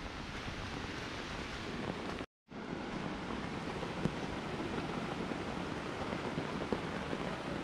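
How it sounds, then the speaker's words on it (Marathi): Floodwater rushes hard under strong pressure during heavy monsoon rain, a steady broadband roar close by that cuts out briefly, then resumes unchanged. "हे बघा पाण्याचा प्रेशर बघा किती"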